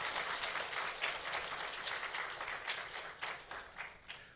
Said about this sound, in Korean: 우리 부활하신 예수님께 영광의 박수 한번 올리겠습니다.